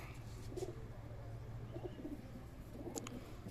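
Pigeons coo softly at a pigeon dealer's, a few low burbling calls spaced out over faint background noise.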